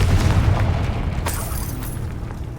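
A Confringo spell explosion in Hogwarts Legacy on PS5, a loud booming blast that rumbles low and fades over a couple of seconds.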